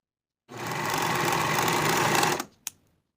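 Sewing machine stitching the underarm seam of a folded cardigan sleeve, one steady fast whirring run of about two seconds, close and loud, ending in a short click.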